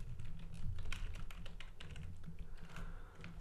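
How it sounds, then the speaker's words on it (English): A password is typed on a computer keyboard under Windows, a steady run of quick, light key clicks close by with no one speaking. "let me type my password"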